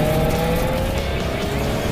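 A 2022 Subaru WRX engine hums steadily through sharp switchback corners, heard from inside the car with a constant drone and faint tire noise.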